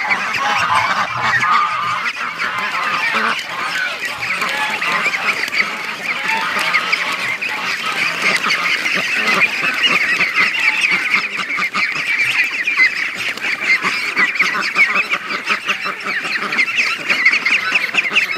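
A noisy flock of Muscovy ducks quacking and honking continuously, close and loud, with overlapping calls and no talking.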